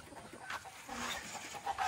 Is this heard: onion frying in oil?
no